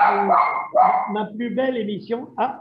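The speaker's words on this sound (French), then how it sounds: "C'est mon chien qui est à côté de moi et qui dit au revoir à la femme de ménage." A pet dog sitting close beside a man in a home produces yips and whimpering barks, mixed in with and sometimes overlapping the man's French speech.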